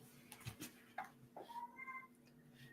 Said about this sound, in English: I can hear my kitty cat.